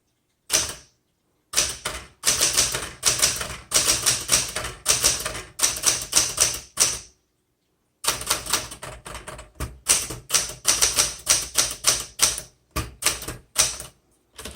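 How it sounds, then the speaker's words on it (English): A 1967 Smith Corona Super Sterling manual typewriter types in close, rapid bursts of crisp keystrokes and carriage clacks, broken by a couple of short silent pauses. No one speaks. "when you make a mistake, you use a backspace, and then you either type over it or X through it or dash through it"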